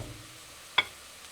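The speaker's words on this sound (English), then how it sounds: "our onions are frying up nicely" Onions frying in a pan give a low, steady sizzle under a quiet background, broken by one sharp clink of a utensil partway through.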